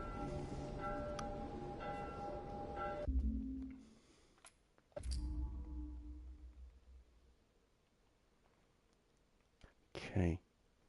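A church bell in The Last of Us Part 1 video game tolls with a resonant ring, then cuts off, followed by scattered clicks, quiet murmuring voices and a short burst of noise near the end.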